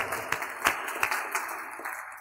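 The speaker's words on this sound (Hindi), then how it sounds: "उसके लिए ताली बजाओ, बहुत" Scattered applause from a lecture audience, a loose patter of claps with a few louder individual hits over a faint steady hiss, moderately close.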